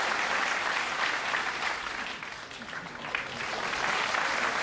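Spectators at the 2005 World 9-ball Championship break into steady applause after a pool kick shot, a dense sustained clapping that swells and holds, close and loud.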